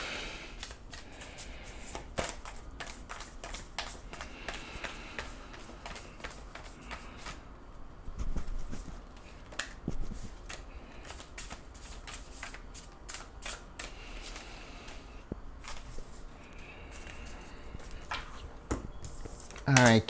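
Tarot cards shuffled by hand, a continuous run of soft papery riffles and rustles with frequent crisp snaps, close and moderately quiet throughout.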